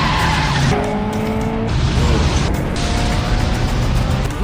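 A car skids loudly in a movie crash scene, long tire squeals over engine roar and dense noise throughout.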